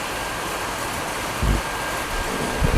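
Steady rain falls in Dehradun as a broad, even hiss. A couple of soft low thumps rise briefly above it, and no one speaks.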